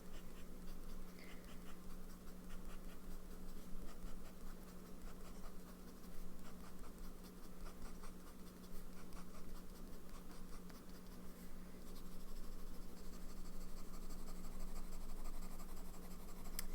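A medium nib fountain pen scratches steadily across paper for the whole stretch, up close, over a low constant hum.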